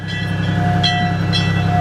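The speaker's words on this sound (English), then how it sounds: "So this train is from the 1950s." A 1950s passenger train rolls along the rails, a loud, steady low rumble with a sustained whining tone and faint rhythmic clicks, heard from on board with no talking.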